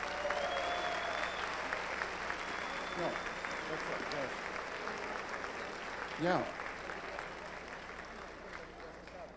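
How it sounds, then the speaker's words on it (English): Pageant audience applauding the contestants, a steady wash of clapping across the whole stretch with a brief exclamation from a voice near the start. "let's give all of these lovely contestants a nice round of applause"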